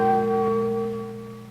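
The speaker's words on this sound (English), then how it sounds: "Church bells herald the battle's end." A church bell rings in Manila, Philippines, at the end of the WWII battle, with a sustained, humming tone, its harmonics fading slowly over a short stretch with no other sounds around it.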